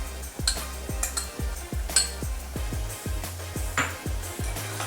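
A spoon scrapes and taps rhythmically against a pot while yogurt is stirred into palak paneer, about a dozen quick clinks in steady succession, close and clear with no talk.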